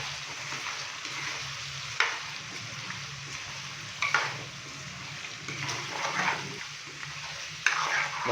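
Spices such as coriander powder, crushed red chilli and turmeric stirred into beef tikka karahi frying in a pan, a steady loud sizzle with periodic scraping strokes of a spoon against the pot.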